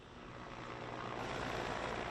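Helicopters fly over forest fires in Indonesia, a faint rotor and engine roar that swells gradually louder as it nears.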